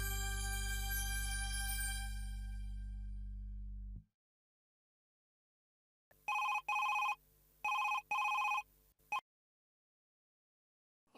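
A telephone rings in short electronic bursts, three double rings with gaps between them. A loud steady hum plays first, then cuts off, and a few seconds of silence come before the ringing.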